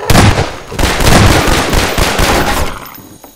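Automatic sentry gun in Garry's Mod zombie survival blasting away in loud, continuous rapid bursts, dense overlapping shots that keep up for about three seconds before trailing off.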